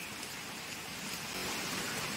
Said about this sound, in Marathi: गेले 8 दिवस कोकणामध्ये जोरदार पाऊस आहे